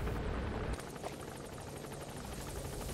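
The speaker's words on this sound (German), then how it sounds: "Dein Helikopter ist anscheinend da." A helicopter in the Metal Gear Solid V: The Phantom Pain video game, its rotor beating in a steady rapid chop over a dense, loud turbine roar that continues throughout with no talk.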